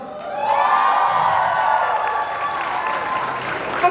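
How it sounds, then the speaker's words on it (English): An audience at a fashion ramp-walk show applauds the designer, a full round of clapping with a few cheers over a sustained musical tone in the background, steady throughout. "please give him a big round of applause"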